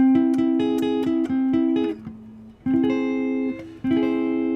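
An augmented triad rings out in a rapid run of repeated strikes, pauses, then sounds again in two longer held strokes, close and clean.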